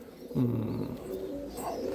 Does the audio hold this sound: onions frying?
no